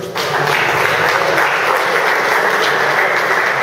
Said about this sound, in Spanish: Muy bien, un aplauso.